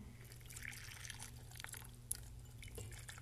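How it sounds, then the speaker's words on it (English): Hot water poured over Chinese clay tea pottery on a draining tray, a faint, steady trickle with light dripping and one small sharp clink, close by and quiet. "you start out by sort of purifying everything with hot water"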